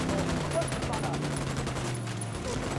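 Dense automatic gunfire in the tactical shooter Ghost Recon Wildlands, a sustained crackling fusillade of mixed weapons under a tense score, with voices calling out over the shooting.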